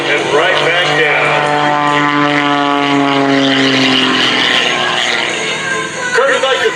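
Kirby Chambliss's aerobatic propeller plane sweeps low over the runway at an airshow, its loud engine drone sliding downward in pitch as it passes, close and powerful over crowd and wind noise.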